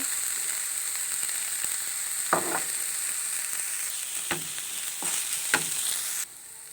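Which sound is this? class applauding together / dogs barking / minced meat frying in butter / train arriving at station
minced meat frying in butter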